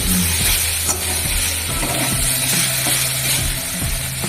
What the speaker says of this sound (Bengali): একটু ভেজে নি নাড়াচাড়া করে নি